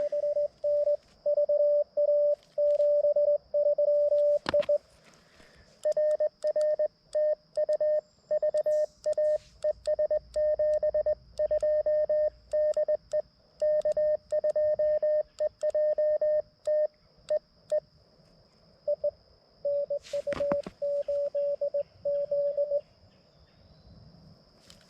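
Morse code tones from a cootie key beep in rapid, steady bursts for most of the clip, clear and prominent over a faint radio hiss.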